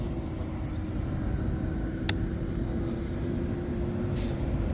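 A truck passes behind a moving scooter on a city street, its heavy engine rumble blending into constant road and wind noise, with a brief sharp click and a hiss near the end.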